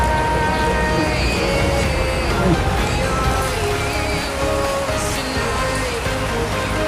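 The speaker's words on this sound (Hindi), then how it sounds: "दोस्तों, आज यहाँ पे बहुत ज़्यादा बारिश हो रहा है" Heavy rain pours steadily at a home, a dense continuous hiss with scattered drips and tonal background noise, loud and close throughout with no pauses.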